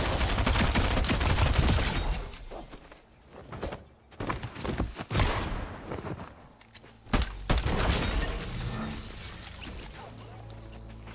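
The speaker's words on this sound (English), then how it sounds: "somebody's shooting at you" Rapid gunfire in the Fortnite video game, with dense bursts of shots and loud crashes that break off briefly and then resume, close and continuous.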